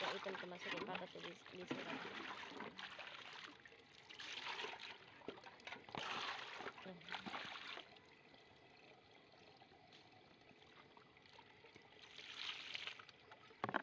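Dishes washed under running water by the roadside, with intermittent splashing and trickling bursts, near and fairly loud, and a voice talking over and between them.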